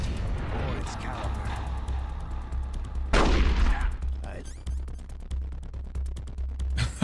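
Gunfire during a boss fight in Metal Gear Solid: The Twin Snakes, rapid repeated shots crackling through the game mix with a loud blast midway, under ongoing game sounds and a voice talking.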